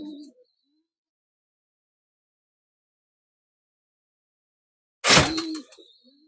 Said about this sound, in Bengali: দেখেন এই যে নর কবুতরটা, এটা নর কবুতর